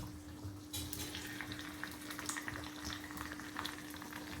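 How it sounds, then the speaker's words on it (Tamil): Hot ghee crackles and sizzles as tempering spices fry in a pan, a dense popping hiss that holds steady throughout, close up with no voices. "நம்ம கூட்டுக்கு தாளிக்கிறோம் தாளிக்கிறதுக்கு நெய் விட்டுக்கலாம்"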